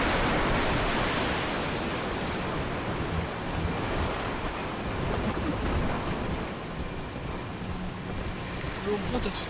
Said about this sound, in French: L'eau monte à toute vitesse.